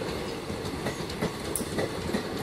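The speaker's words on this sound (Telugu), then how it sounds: "సో ఇప్పుడు ముంబై నుండి హైదరాబాద్ వెళ్తుంది ఈ ట్రైన్, చూడండి." A passenger train rolls past on the Mumbai to Hyderabad route in India, a steady, fairly close rumble of wheels and cars with faint clickety-clack over the rails and no voices.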